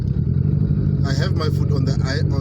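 A Palio R car engine that will not idle on its own drones at a low, steady idle while the accelerator is held. It stays loud and close throughout, and a voice talks over it in the second half.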